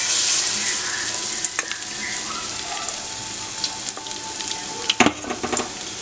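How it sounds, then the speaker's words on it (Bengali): Onion fritters frying in hot, bubbling oil, a steady close sizzle with scattered crackles and pops that sharpen briefly near the end. "তো তেলটা বেশ গরম হয়ে গেছে, ফুটতে শুরু করেছে।"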